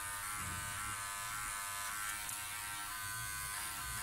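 A Powertec TR 1700 electric hair clipper hums steadily at close range while cutting hair, a continuous buzzing with a slight flutter as it pushes against the grain, no voices.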